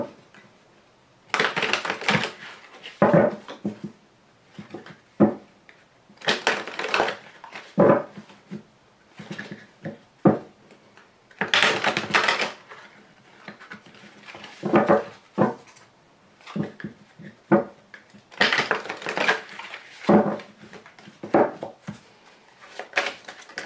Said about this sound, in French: je vais donc vous tirer des cartes conseils avec les cartes OH